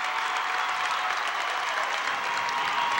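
Sustained applause and cheering rise from the crowd at a 1998 state high school basketball game between North Salem and Jesuit, a standing ovation at North Salem High School, dense and unbroken from start to finish.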